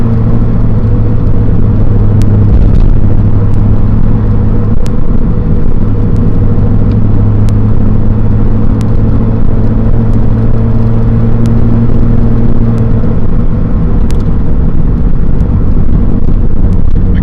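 Ferrari F40 engine while driving, a loud, steady, deep drone and rumble heard from inside the car, continuous throughout with faint ticks and rattles above it and no speech.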